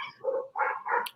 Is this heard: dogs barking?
yes